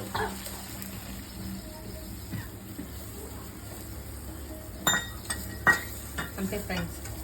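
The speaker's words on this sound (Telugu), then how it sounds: "ఇలా పోపు వేగాక ఈ రసంలో మిక్స్ చేసుకోవడం అంతే" Fried tempering is stirred into boiling rasam in a pot, giving a low simmering bubble with a soft sizzle, broken by a few sharp metal clinks of a spoon against the vessel, close and mostly quiet.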